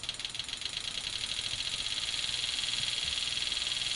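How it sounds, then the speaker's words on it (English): An engine fitted with a water fuel injection system runs steadily and speeds up, giving a continuous buzzing whine with rattling underneath that grows slightly louder. "if you listen to the sound, you can hear the injector speed up"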